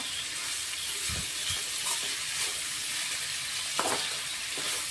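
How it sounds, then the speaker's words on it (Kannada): Onions frying in a pan give a steady, soft sizzle with a few light stirring scrapes, close and fairly quiet, with no talk. "ಇಲ್ಲಿ ಈರುಳ್ಳಿ ಸ್ವಲ್ಪ ನಾನು ಫ್ರೈ ಮಾಡ್ಕೊಂಡು ತೊಗೊಂಡಿನಿ ನೋಡಿ ಈ ರೀತಿ"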